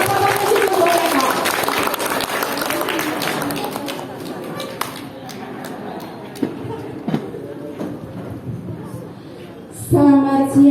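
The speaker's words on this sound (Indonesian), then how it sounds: "Ayo kita tepuk tangan dulu ibu-ibu cantik." A parish women's fellowship gathering breaks into applause, with women and men clapping together in a busy, sustained patter that tapers off, followed by scattered claps and a voice near the end.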